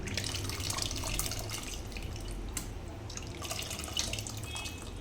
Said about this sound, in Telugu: ఇదిగోండి చింతపండు రసం వేసేసాను